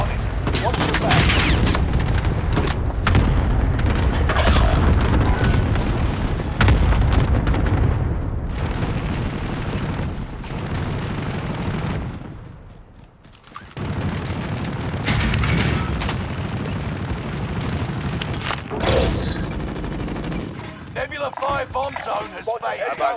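Rolling airstrike explosions in Call of Duty Warzone Pacific, a long run of dense, loud booms and rumbling blasts with gunfire, brief dips between salvos, and in-game voices over the top.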